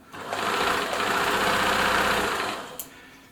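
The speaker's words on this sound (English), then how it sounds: "Nice, smooth, quiet, well balanced machine." A Swiss-made Bernina Nova 900 electronic sewing machine runs in one smooth, steady burst for about two seconds, close by and fairly loud, with no voices.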